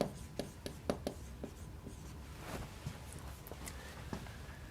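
Chalk taps and scratches across a lecture board as math notes are written, a string of faint crisp strokes and clicks at an uneven pace, close in a quiet room.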